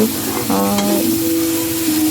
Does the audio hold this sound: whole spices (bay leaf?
yes